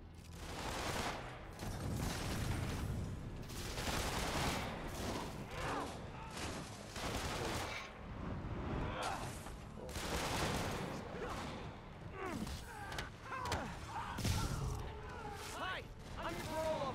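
Rapid gunfire from snipers in a Spider-Man video game rattles in dense, loud bursts nearly throughout, with speech mixed in.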